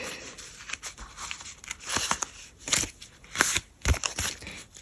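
Crisp paper tearing and crinkling in several bursts, close up, with paper surprise packets being ripped open in quick uneven pulls.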